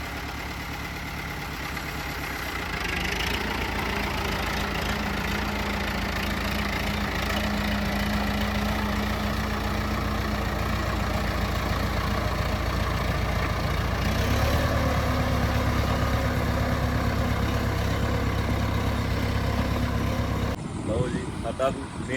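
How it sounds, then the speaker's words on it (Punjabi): A small tractor engine idles steadily after starting, a continuous low mechanical drone with a slight pitch shift partway through, running close and loud for about twenty seconds before a brief disturbance near the end. "ਸਾਡੇ ਘਰ ਤਾਂ ਇਹ ਨਿਕਾ ਜਾ ਟਰੈਕਟਰ ਹੋ ਗਿਆ ਸਟਾਰਟ"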